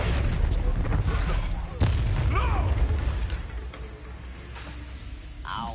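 A Bombarda blasting spell in a wizard-themed video game, a loud booming explosion with a rumbling roar that decays slowly, followed by lighter magical whooshes and chirps.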